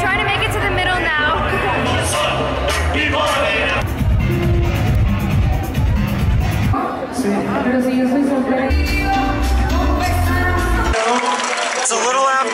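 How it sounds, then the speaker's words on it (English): A dense, loud crowd fills a nighttime Mexican Independence Day street party, constant babble and cheering mixed with music, with a voice talking close by throughout. "There's tons of people here. It's really loud."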